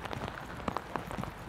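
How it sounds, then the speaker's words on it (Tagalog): Heavy rain falls outdoors, a dense, steady patter of drops striking surfaces close by, with scattered sharper splashes and no talking. "Ang lakas ng ulan."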